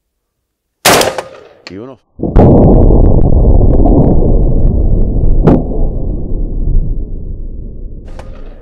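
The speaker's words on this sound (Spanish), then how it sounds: "Dos disparos, uno bien agarrado" Two sharp, loud gunshots crack at close range about a second and a half apart. The second blast trails into a long rumbling roar, and a brief voice is heard between the shots.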